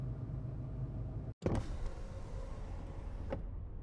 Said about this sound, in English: Shinju lowered the window just to crack to hear what was going on outside.